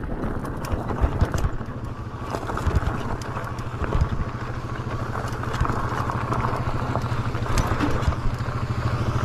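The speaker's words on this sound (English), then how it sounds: "Here comes a motorbike." A motorbike passes on a steep rocky trail, its engine droning steadily throughout and gradually growing louder, with scattered clatters and knocks over the hum.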